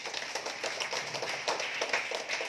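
A church congregation claps in sustained applause during a sermon, a dense, moderately loud wash of many hands with a loose, pulsing rhythm and no talk over it.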